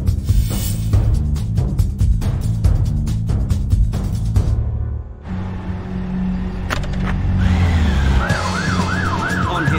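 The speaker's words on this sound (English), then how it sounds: "On his Yamaha FJR 1300, Mark can sprint across town faster than an ambulance" Emergency siren on a paramedic's Yamaha FJR 1300 motorbike, a rising and falling wail that starts partway through over loud engine and traffic noise with rapid impacts earlier.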